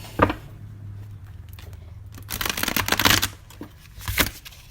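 A stiff tarot card deck is shuffled by hand in close, crisp bursts, one brief riffle followed by a longer rapid flutter and a final quick snap of cards.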